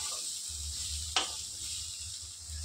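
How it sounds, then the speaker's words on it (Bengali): Vegetables for sabudana khichdi fry lightly in a pan with cumin powder, salt and turmeric, giving a soft steady sizzle with a low hum beneath and one brief stir or clatter partway through. "এটা একটু হালকা ভাজা ভাজা হয়ে গেলেই হলো"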